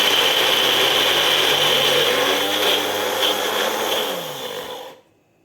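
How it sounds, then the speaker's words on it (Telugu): A mixer grinder whirs loudly at a steady pitch while coarsely grinding sweet corn, then slows and cuts off, leaving silence at the end. "ఇలా మిక్సీ పెట్టుకోవాలి"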